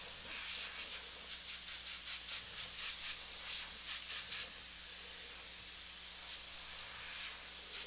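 Airbrush spraying paint for fire and skull artwork, a steady close hiss with soft pulsing bursts as the trigger is worked.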